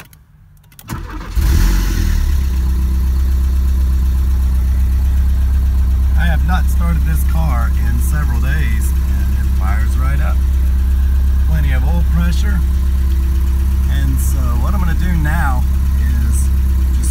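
A 1984 Porsche 944 engine cranks and catches after a brief moment, then settles into a steady, loud idle that holds for the rest of the clip, with voices heard over it.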